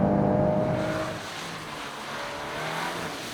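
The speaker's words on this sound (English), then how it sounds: "So let's try to drift this one on the wet surface" A VW Golf R Estate drifts on a wet racetrack, its engine revving and fading as it slides, with tire hiss on the wet surface, heard from the roadside at moderate distance.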